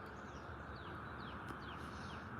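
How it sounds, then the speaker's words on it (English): Birds chirp outdoors in February, faint short tweets scattered over a loud steady bed of wind or traffic noise. "Oh wow, there's birds out now."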